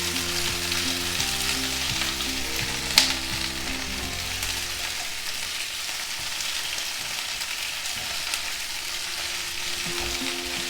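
Three colours of chopped capsicum are stir-fried for paneer chilli with a constant crackling sizzle, one sharp clink early on and a low steady hum underneath, near and uninterrupted by speech.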